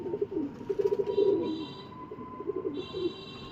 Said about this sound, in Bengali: রনি ভাইয়ের একজোড়া 35 কবুতর বিক্রি করা হবে।